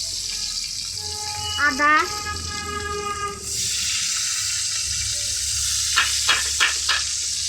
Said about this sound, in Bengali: রসুন কটা তেলে ভেজে নেব